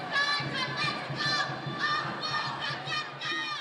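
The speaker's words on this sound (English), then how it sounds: "Thousands marched through the streets of downtown Los Angeles to protest President Donald Trump's immigration policies." A crowd of protesters marches through downtown Los Angeles against immigration policies, with overlapping shouts and chanting voices rising in rhythmic waves close by.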